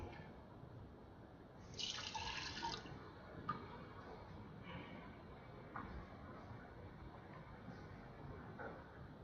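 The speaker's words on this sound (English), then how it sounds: "see if I can take a little bit of water." Water pours in a home kitchen in short faint bursts, a brief brighter splash of running liquid followed by softer trickles and drips, all quiet and close with no talking.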